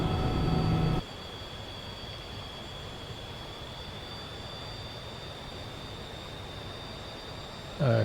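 A Grumman F-14X Tomcat's jet engines roar at a steady, fairly faint level in a flight simulator, a broad continuous rush with a thin high whine, framed by brief louder bursts at the start and end.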